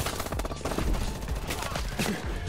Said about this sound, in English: I just started using that shotgun like a machine gun again